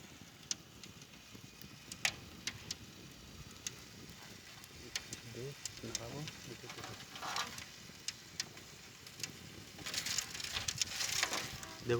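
Hot oil crackles and sizzles in a pan just before chicken pieces go in, faint scattered pops and ticks with a louder burst of spitting near the end, and a voice talks quietly in the background.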